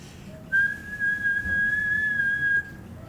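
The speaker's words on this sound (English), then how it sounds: "Dorothy blew the little whistle she had always carried about her neck" A little whistle is blown once, giving a clear, high, steady note that holds for about two seconds in a quiet room before stopping.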